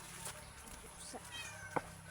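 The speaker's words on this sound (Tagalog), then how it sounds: "Tingnan mo ang pusa." A cat meows softly a few times, close by, with a sharper short meow near the end over quiet background.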